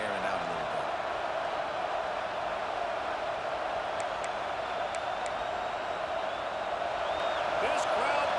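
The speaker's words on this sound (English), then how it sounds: "This crowd bringing the energy and noise early." Dense, steady roar of a college football stadium crowd at a Georgia vs. Oregon game, a continuous wash of massed voices holding level throughout with scattered louder shouts rising near the end.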